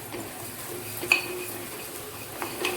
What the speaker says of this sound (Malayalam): അപ്പോൾ നമ്മൾ എടുത്തത് വറുക്കുക, നല്ലോണം ഒന്ന് വറുക്കുക